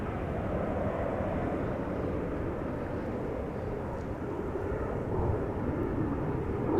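Jet airliner taking off at Amsterdam Schiphol Airport, a steady, loud, broad engine roar that holds evenly throughout with no voices.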